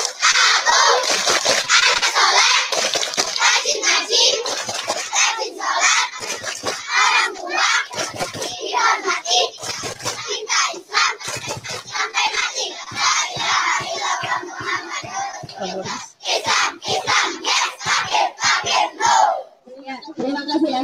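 A crowd of children chanting a rhythmic clapping chant, loud shouted voices with sharp hand claps, continuous and energetic.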